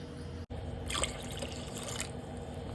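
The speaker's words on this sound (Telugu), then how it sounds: "కావాల్సినన్ని వాటర్ కూడా యాడ్ చేసేసుకుంటాము." Water poured into cooked dal for Telugu pappucharu, a steady close splashing and trickling that swells briefly in the middle, with no talk.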